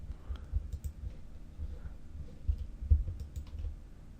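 Computer mouse clicks while selecting shapes in Illustrator, a series of soft, close, irregular taps spread across the clip over a quiet background.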